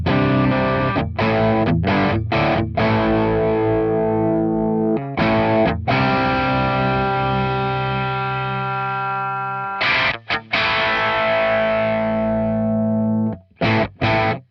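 Electric guitar driven through a Boss DS-1 distortion pedal with its tone knob turned down, playing loud sustained distorted chords with a few short breaks and restrikes, dark and bass-heavy.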